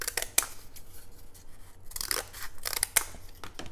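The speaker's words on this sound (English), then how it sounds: "but basically I just cut a V." Scissors snip through cardboard to cut a V shape for a heart, with a few crisp, close cutting crunches and rasping strokes at irregular intervals and no talk.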